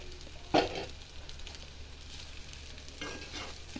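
Boiled rice is stirred into a tomato mint masala in a pan, opening with a sharp spoon knock and then a soft continuous scrape and light sizzle, no talk.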